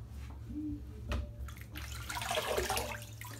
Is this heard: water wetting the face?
yes